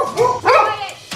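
A dog barks loudly up close, two quick yelping barks in a row with a whiny, excited edge, followed by a short clipped yip.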